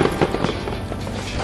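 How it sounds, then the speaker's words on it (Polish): Firecrackers exploding in the western shooter Call of Juarez: Gunslinger, a quick burst of sharp cracks and pops close by over a dense, noisy background. "W szczególności te petardy dają magicznego uroku sylwestrowego westernu"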